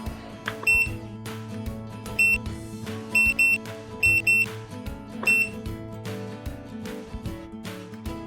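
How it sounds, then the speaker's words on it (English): A P3208 320W smart regulated power supply gives its prompt beeps: several short, high electronic tones, some single and some in quick pairs, heard over quieter background music. "Users can choose to open/close the prompt tone."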